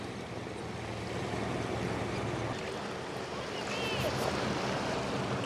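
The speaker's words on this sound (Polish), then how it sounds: "płynie nasza łódka" Waves wash steadily on the Caribbean Sea while a boat approaches, with wind buffeting the microphone and a low engine drone underneath, all at moderate, constant loudness.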